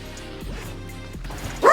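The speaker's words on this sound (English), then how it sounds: "And I'm sorry about the dogs yet again." Dogs bark and yip in short bursts, a few separate woofs with a sharper, louder outburst at the very end, nearby and with no talking over them.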